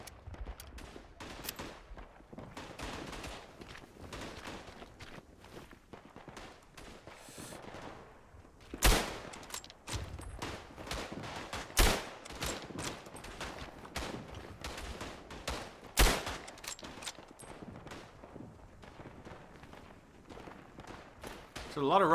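Gunfire in the World War I first-person shooter Tannenburg, with scattered rifle shots and bursts cracking over a busy, noisy battlefield, several loud reports standing out close by across a long stretch.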